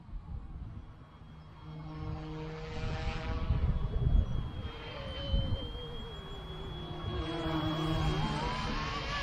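A small YU XIANG F08 Bell 206 RC helicopter on a 7.4 volt battery flies outdoors on a calm, slightly windy day, its rotor whine rising and falling steadily at moderate distance, with no voices.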